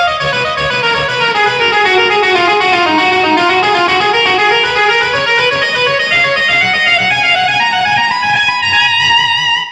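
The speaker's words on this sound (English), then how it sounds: "I picked eighth note triplets with the volume swells, and I had my delay set to eighth note repeats" Distorted electric guitar plays eighth-note triplet volume swells through a delay pedal set to eighth-note repeats. Loud, continuous overlapping tones weave a gliding melodic line with no gaps between the notes.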